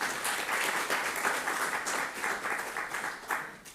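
Audience applause at a lecture on Lebanon's banking sector, a dense steady burst of many hands clapping in a hall, lasting a few seconds.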